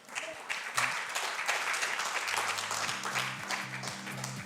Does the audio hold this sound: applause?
yes